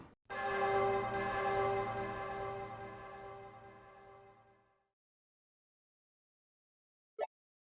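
A loud church bell tolls once in the Ys I & II Chronicles game, its rich ringing harmonics decaying slowly over about four seconds before silence and a brief faint click.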